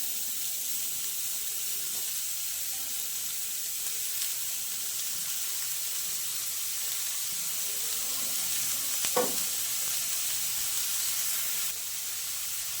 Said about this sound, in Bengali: আদা কাঁচা লঙ্কাটা একটু ভাজা ভাজা হয়ে গেছে, এবার গ্রেট করা ফুলকপিগুলো দিয়ে দেবো।